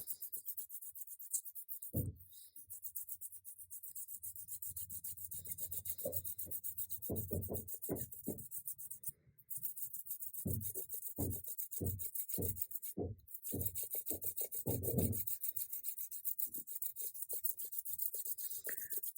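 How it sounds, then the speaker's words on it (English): An oil pastel is rubbed over textured paper laid on a raised surface, making soft scratchy strokes in quick rhythmic clusters, fairly faint and close over a steady background hiss. "as simple as going over this to reveal the rubbing"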